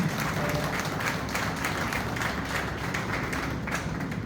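An audience at a book launch event applauding, a dense, continuous wash of many hands clapping, steady and moderately loud throughout.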